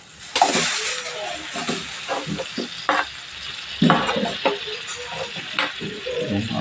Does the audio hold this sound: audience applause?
no